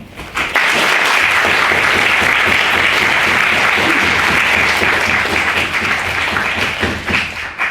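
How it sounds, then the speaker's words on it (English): A debate audience breaks into a large round of applause after a speech, sustained dense clapping that swells quickly and holds loud and near for several seconds before easing slightly. "We have a huge round of applause."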